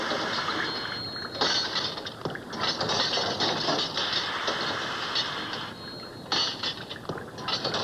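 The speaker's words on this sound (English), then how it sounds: "the sound of the clanking Newcomen could be heard all over Europe" A coal-powered Newcomen steam engine clanking and grinding in a steady mechanical rhythm, metallic rattles and ratcheting bursts over a continuous rumble, fairly close and heard alone.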